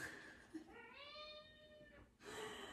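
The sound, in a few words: cat arriving, meowing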